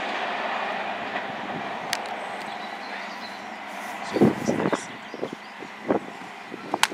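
A Class 43 HST diesel train, unit 43128, running the London Paddington to Penzance service, rumbles steadily past at Castle Cary, with a series of sharp clattering wheel knocks in the second half.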